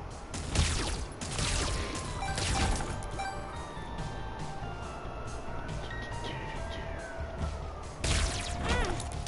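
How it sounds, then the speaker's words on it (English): Wailing sirens in the game The Binding of Isaac: Repentance, rising and falling over a dense, noisy backdrop of game sound for the full stretch, with no one talking. "Wouldn't be serious without sirens."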